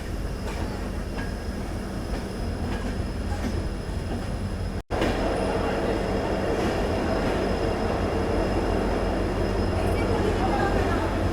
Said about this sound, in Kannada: ಕಾರವಾರ ಯಶವಂತಪುರ ಎಕ್ಸ್ಪ್ರೆಸ್ ಎಂಟ್ರ್ ಆಗೈತ್ರಿ ಡಾಟ್ ಆನ್ ಟೈಮ್.